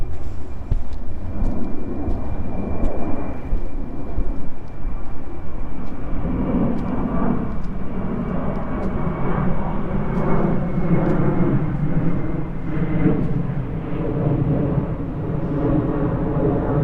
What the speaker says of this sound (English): So you always hear the airplanes.